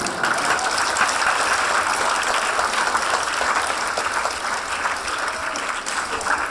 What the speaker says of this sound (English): Can we have a round of applause for good English?